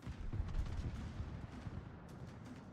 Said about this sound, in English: And Adorata fires one last defiant salvo at the Alaska